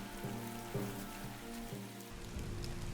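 Rain falls in the video game Biomutant, a steady soft patter under a low looping musical tone, moderately quiet and continuous, with no talking.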